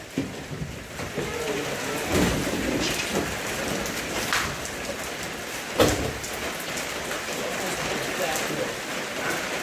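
Steady heavy rain pours down on a surface close by, a dense continuous hiss with a few louder splashing bursts, while voices speak over it.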